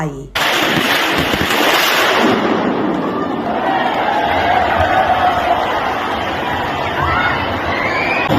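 Firecrackers explode continuously amid a crowd at a birthday celebration in Rayong, Thailand, where cash-filled balls are thrown. The crackling bursts are dense and loud, with overlapping pops and rumble that fill the whole span.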